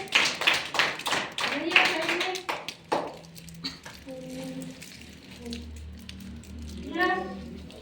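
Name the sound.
clapping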